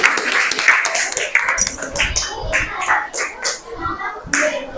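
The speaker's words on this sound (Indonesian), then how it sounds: "Ya, tepuk tangan buat kita semua." A classroom of students clapping hands, uneven bursts of claps mixed with chatter and voices, loud and close.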